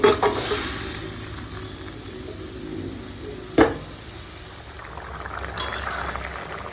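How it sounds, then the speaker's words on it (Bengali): Fried rohu fish going into a simmering curry, a soft bubbling sizzle with a sharp splash or clatter partway through and a steady low hiss around it. "কচুর মুখে সেদ্ধ ওই জন্য আমি ভাজা মাছটাও এখন দিয়ে দিচ্ছি"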